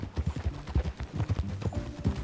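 Horse hooves clip-clopping at a brisk, uneven rhythm in the Western video game Red Dead Redemption 2, close and fairly quiet, with faint muffled background sound.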